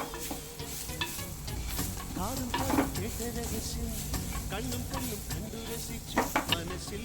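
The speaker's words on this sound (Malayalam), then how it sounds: "മസാലയൊക്കെ നന്നായിട്ട് മൂത്തിട്ടുണ്ട്." Masala with garam masala roasting in a pan for a clam fry, a steady close sizzle broken by stirring scrapes and a few utensil knocks against the pan, with no talk.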